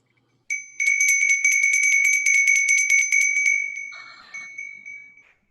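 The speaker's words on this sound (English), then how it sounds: "Can we have a bell?" A bell rings during a ministers' ordination ceremony, struck in a fast, steady run of bright metallic tones for about three seconds before the ringing trails off into a fading shimmer, clear and close with no talk.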